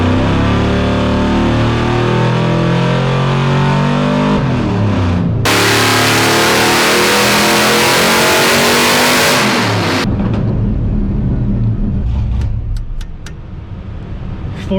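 A turbocharged engine roars loudly at full throttle on a tuning run, a thick sustained bellow that shifts abruptly in tone partway through, then eases into lighter, fading mechanical sounds near the end.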